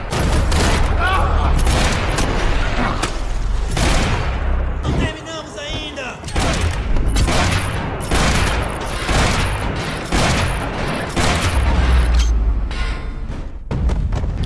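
Rapid gunfire in a Max Payne 3 shootout in a dining area, dense bursts of shots and booming impacts almost without pause, loud and close, with a brief dip partway through.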